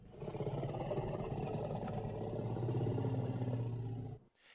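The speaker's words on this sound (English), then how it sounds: "let's make him have kind of that lower, deeper growl using the sound effect that we imported here," A low, deep T-Rex growl sound effect rumbles continuously for about four seconds, loud and close, then cuts off abruptly into near silence.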